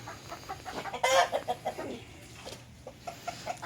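Rhode Island Red chickens clucking in short bursts, one louder squawk near the start, over low background noise of a farmyard.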